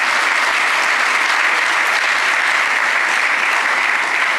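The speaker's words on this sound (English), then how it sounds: "let us clap heartily in that" Audience at a student symposium claps heartily, a thick continuous roar of many hands at full, even loudness from start to finish with no voices above it.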